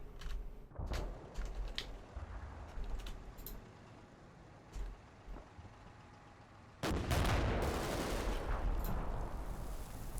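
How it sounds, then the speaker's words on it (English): Mortar rounds land in the World War II video game Combat Mission: Battle for Normandy, with several sharp, booming blasts scattered across the clip. A heavier, sustained roar of fire and rumble follows in the last few seconds. "Maybe it could be mortars coming in."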